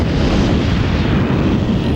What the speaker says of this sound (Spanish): se levantó la salva de cañonazos más tremenda que haya visto nunca